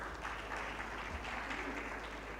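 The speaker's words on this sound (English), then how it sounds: "Another round of applause for the panel." Audience at an alternative investments conference applauds a panel, dense sustained clapping from a large room that fills the whole moment evenly, with faint voices mixed in.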